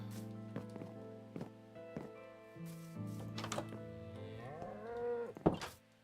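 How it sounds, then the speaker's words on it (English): Minecraft cows give low, drawn-out moos at close range, several overlapping calls rising in pitch toward the end, mixed with soft thuds of footsteps and blocky in-game clatter. "What was that cow? These cows. I didn't know they made that sound."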